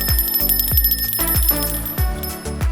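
A Donate Life gratitude bell on a waterfall trail rings loud and close in a steady series of bright, rhythmic strikes, about two per second. Each one decays into a shimmering metallic ring.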